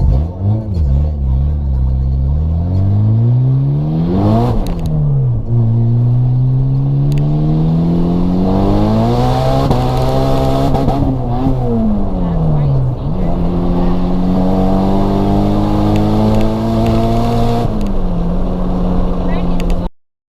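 A turbocharged Honda CR-V engine revs hard and loud, climbing and dropping through repeated rising pulls with brief dips between them, close and continuous for about twenty seconds.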